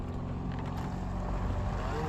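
A fishing boat engine drones low and steady at close range at sea, with faint wind noise.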